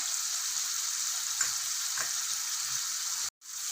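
Steady bubbling sizzle of a thick tamarind gravy simmering in a pan, with a couple of soft pops and a brief break near the end.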